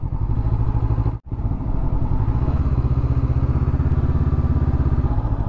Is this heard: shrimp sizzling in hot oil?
no